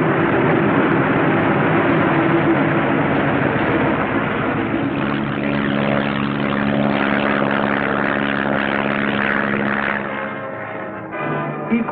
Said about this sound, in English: a first flight takes off in the sunrise, others following at regular intervals